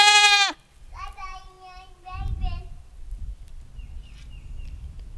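Goats bleat in their new house built from a plastic IBC tote; a loud close bleat opens, then several quavering calls overlap with soft rustling and a faint distant bleat near the end.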